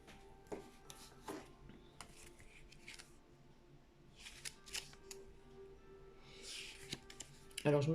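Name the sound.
shuffling and drawing oracle cards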